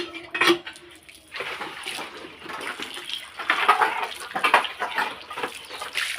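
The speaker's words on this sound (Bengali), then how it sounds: "বাসনগুলো মাজা হয়ে গেলো, এখন তাড়াতাড়ি করে ধুয়ে নিই।" Water splashes and pours as dishes scrubbed with stove ash are rinsed, with irregular gushes and occasional clattering of utensils close by.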